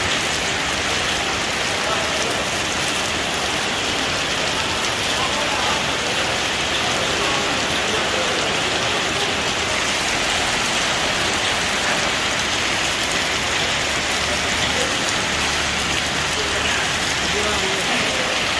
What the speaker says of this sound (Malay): hujan tengah malam di Blang Kiri